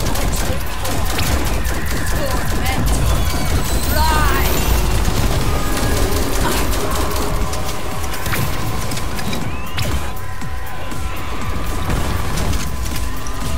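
Gunfire in a video game: dense rapid bursts of shots and crashing impacts blend into a loud, constant din, with a voice talking over the chaos.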